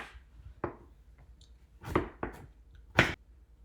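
A knife chopping potatoes: several distinct sharp cuts land at irregular intervals on a board, close and crisp, with short pauses between them and no talking.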